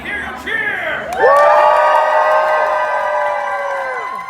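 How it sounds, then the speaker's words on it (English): A dinner-theatre crowd at the Tournament of Kings show in Las Vegas roars in loud, sustained cheering and whooping, rising sharply after a brief opening burst and holding steady to the end. "Let me hear you cheer!"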